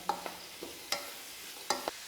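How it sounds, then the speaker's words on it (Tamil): Finely chopped cabbage and other vegetables are stirred in a pan for fried rice, giving a few scattered scraping and clattering stirs over a faint sizzle, fairly quiet and with no talk. "இப்போ இதெல்லாம் சேர்த்து நல்லா வதக்கிடுங்க."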